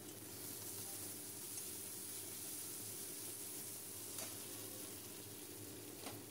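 Spice paste for prawn malai curry frying over low heat in a pan, a steady, even sizzle and hiss that continues alone without break.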